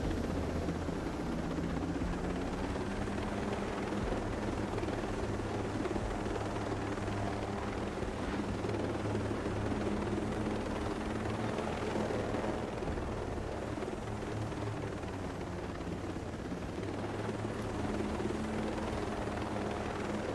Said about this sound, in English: take y'all's time getting on the helicopter